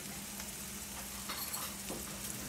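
Tilapia with peppers frying in a pan gives a steady, even sizzle that stays close and constant throughout, with no talking.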